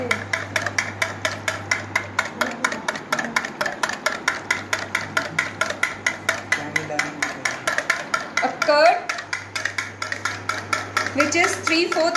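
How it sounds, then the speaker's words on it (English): Batter is whisked briskly in a bowl, with rapid, evenly spaced metallic clicks of the whisk against the sides and a low hum underneath. A person speaks briefly partway through. "We will whisk it well so that an emulsion forms."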